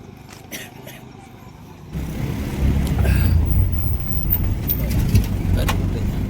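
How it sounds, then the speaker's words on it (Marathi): An auto rickshaw arriving at a roadside stand, its engine drone rising from quiet to a loud, steady rumble nearby, with voices in the background. "एक रिक्षा आले बघूया आता"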